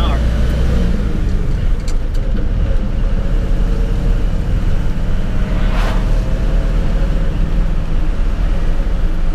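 A stock 1977 Dodge D200 pickup with a 318 engine crawls downhill in granny gear at about 15 mph, giving a steady, loud low rumble and cab noise throughout with no distinct changes.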